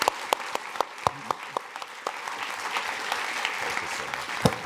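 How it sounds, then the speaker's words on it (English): A lecture audience applauds for a presidential lecture series speaker, a moderate, steady patter of many hands clapping with a few sharper claps standing out, fairly distant and thinning toward the end. "a big round of applause for Dr."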